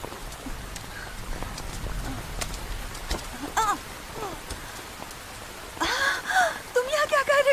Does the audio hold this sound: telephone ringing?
no